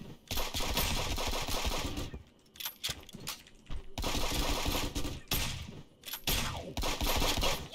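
Rapid bursts of gunfire from the video game Friends vs Friends, sniper rifle play, loud dense volleys in several sustained bursts separated by short gaps.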